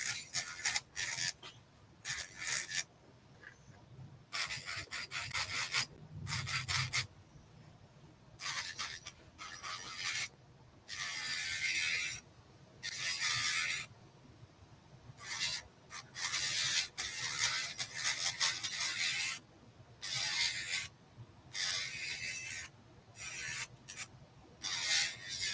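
An electric nail file at about 7,000 RPM shapes a gel nail extension built on a dual form tip, running in repeated short bursts of gritty high whirring grind separated by brief pauses, close up and with no talk.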